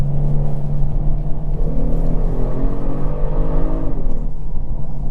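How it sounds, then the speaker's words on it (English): A 2022 Genesis G70 3.3T Prestige AWD with its 8-speed automatic downshifts, heard from inside the cabin as a loud continuous engine drone whose pitch sweeps as the revs change, with no talking. "Lovely downshift."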